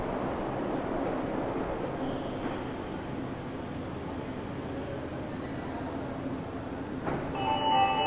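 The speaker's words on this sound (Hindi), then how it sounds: "ये गेट ओपन हो गए हैं मनकामेश्वर मेट्रो स्टेशन पर" An Agra Metro train of three coaches at Mankameshwar station, a steady rumbling hum of the idling train and platform, then a soft clunk and chime as the doors open near the end.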